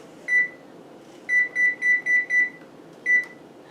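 An oven control panel set to preheat gives a single electronic beep, then five quick evenly spaced beeps, then one more, clear and close over a faint room hum with no talking.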